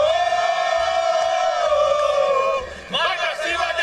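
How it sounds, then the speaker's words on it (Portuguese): Flamengo football fans in coats gathered outside a new stadium, a massed crowd chanting and singing loudly in sustained tones, with a brief dip before the voices surge back in. "vou deixar esse sobe-som da galera aqui"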